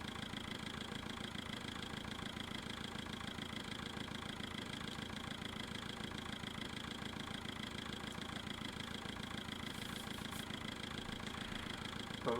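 A tractor engine in Farming Simulator 2011 runs steadily at a low, even idle, a continuous mechanical drone with no pauses or voices.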